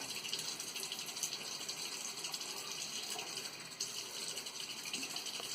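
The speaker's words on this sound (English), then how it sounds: "I'm going to add just a little bit of extra water because it tends to get kind of straight right there." Extra water applied to curly hair, heard as a steady, close spraying hiss that runs unbroken for several seconds with no talk.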